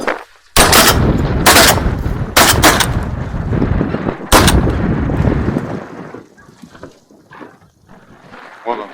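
Shotguns fire at geese during a spring goose hunt in the Komi Republic, several loud close blasts in quick succession with echoing tails, then quieter rustling and distant sounds as people speak briefly.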